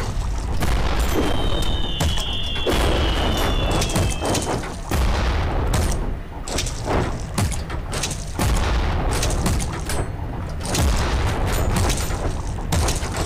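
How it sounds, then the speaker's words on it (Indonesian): A Scorpion tank fires its cannon again and again in a video game, each shot bursting into explosions. The booming is loud and dense and barely lets up. "Itu tembakannya berbahaya tuh, bisa meledak di atas."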